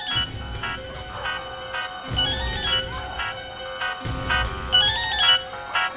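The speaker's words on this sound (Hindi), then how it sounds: "फोन बज रहा है।" A ringtone plays loudly on a phone in a crime drama scene, a looping electronic melody with a bass beat that repeats about every two seconds, with no talking over it.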